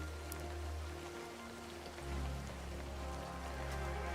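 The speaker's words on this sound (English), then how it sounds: "It's raining, guys." Rain falls steadily outside as a soft, even hiss, faint and continuous behind a low electrical hum.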